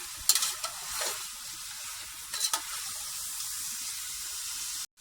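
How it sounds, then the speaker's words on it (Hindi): Potatoes and capsicum fry in a pan for vegetable yakhni pulao, giving a bright, constant sizzle with a few sharp spatula clinks as the pieces are mixed, then a sudden stop. "अब इन तमाम सब्जियों को बहुत ही अच्छे तरीके से मिक्स कर लेंगे।"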